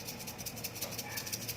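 Dried chili peppers shaken by hand, their loose seeds rattling inside in a quiet, dry, rapid hiss-like patter with soft repeated pulses.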